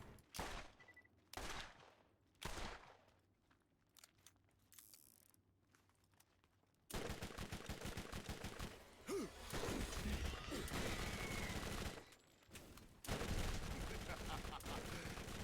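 Gunfire from the video game Borderlands: a few separate loud bursts, then a long stretch of dense, sustained shooting and crashing, with brief gaps between bursts.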